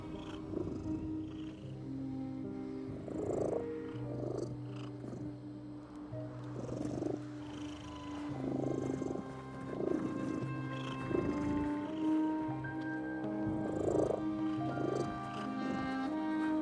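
A cat in The Midnight Walk video game purrs close and steady over a soft low musical drone. Rhythmic rumbling pulses repeat every second or so throughout, with no talking.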